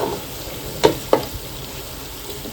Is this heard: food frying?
yes